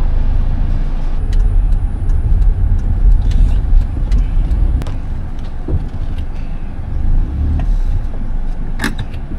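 A car rolling slowly into a parking spot near Hulugan Falls, Laguna, with a low steady engine rumble up close, a few light clicks and a brief squeak near the end, no talk.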